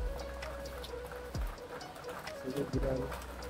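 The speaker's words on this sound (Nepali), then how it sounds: "पानी परिरहेको छ।" Rain falls steadily in Jumla, Nepal, a continuous patter heard under people talking, with a couple of brief low thumps partway through.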